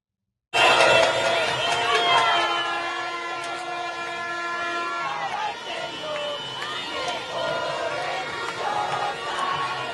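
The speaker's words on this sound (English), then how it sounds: "Here's some footage of Venezuelans celebrating from around the world." A crowd of Venezuelans celebrates outdoors, a dense roar of cheering voices with shouts, whistles and a sustained horn-like tone rising and fading throughout.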